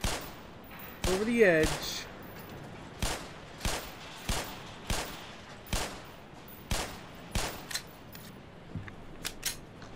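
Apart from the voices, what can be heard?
gunshots in the video game Black Mesa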